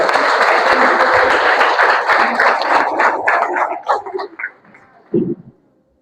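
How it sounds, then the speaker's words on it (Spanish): Church members applaud during a sermon, a dense burst of clapping that thins out and fades, ending with a few scattered claps and a short sound near the close. "les doy un aplauso a ellos por estar nuevamente acá"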